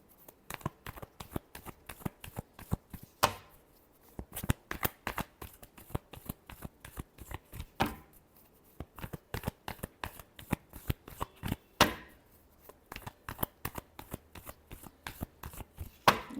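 Tarot cards being shuffled by hand, a long series of quick riffling flutters and snaps in close rhythmic bursts with brief pauses between rounds.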